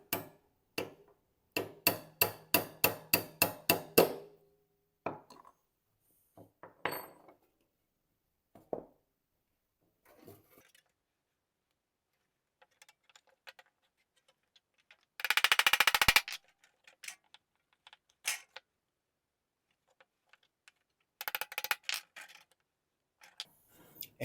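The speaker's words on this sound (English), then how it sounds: "So I can sit the saw bolt directly on top of that hole and then punch it through" Steel saw bolts punched out of a wooden Disston saw handle, a fast run of sharp hammer taps early, then scattered single knocks and a brief grinding burst, close and alone.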